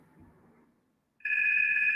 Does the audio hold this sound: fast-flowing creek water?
no